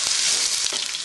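Chicken pasanda in progress as fresh ginger hits a hot pan, giving a loud, steady close-up sizzle that holds for about a second with no talking.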